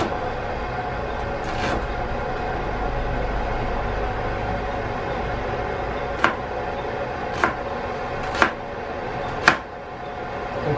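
Knife chopping food on a board while cooking spaghetti bolognese, a few sharp separate chops, one early and four spaced near the end, over a steady background hum.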